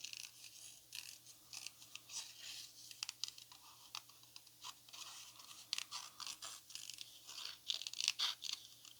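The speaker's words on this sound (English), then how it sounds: "we'll just cut these out real quick. Do a little fussy cutting." Scissors fussy cutting small paper craft pieces, a quick run of faint crisp snips and rustles, close and irregular, growing a little busier toward the end.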